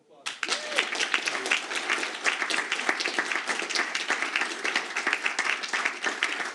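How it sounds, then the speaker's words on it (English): Audience applause at a city council meeting starts abruptly and continues as steady, fairly close clapping from a modest crowd, with a brief voice near the start. "How about one more round of applause?"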